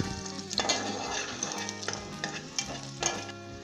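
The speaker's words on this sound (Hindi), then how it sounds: "उसके बाद हम इसके अंदर लहसुन डालेंगे। एक से 2 मिनट तक हम इसे फ्राई करेंगे" Garlic fries in hot oil for a Bengali masoor dal, a close crackling sizzle broken by several brisk stirring scrapes, with tonal music playing underneath.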